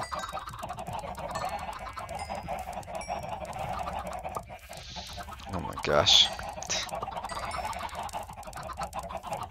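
A flock of chickens in Minecraft keeps up dense overlapping clucking throughout, with a man's brief remark and a short louder burst near the middle.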